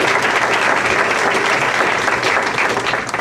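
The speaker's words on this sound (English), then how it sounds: "Let's just give these folks a round of applause." An audience at a mayoral debate in Orlando gives a sustained round of applause, loud and dense, tapering slightly at the end.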